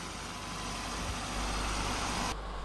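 A car engine idles with a steady, even rumble, close and continuous, with no voices over it.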